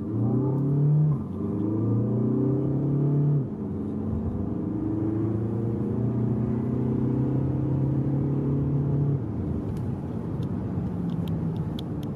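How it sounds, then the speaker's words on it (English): A 2015 Volkswagen Passat B8 with a 2-liter TDI diesel of 150 horsepower accelerates hard from 0 to 100, its loud engine note rising through several gear changes with a steady rumble throughout and no talk. "And now to show you the performance of the 2-liter TDI with 150 horsepower, that diesel performance,"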